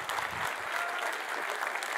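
Audience at a tech conference applauds after a talk ends, a continuous burst of many hands clapping, fairly close and even throughout.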